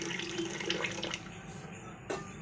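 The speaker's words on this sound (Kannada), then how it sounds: "ಇವಾಗ ಅದಕ್ಕೆ ಕಾದಿರುವಂಥ ಬಿಸಿನೀರನ್ನು ಹಾಕೋತಾ ಇದ್ದೀನಿ" Hot water is poured into a cup of instant lemon tea, making a soft, steady trickling splash that shifts slightly in tone as it fills, fairly quiet and close.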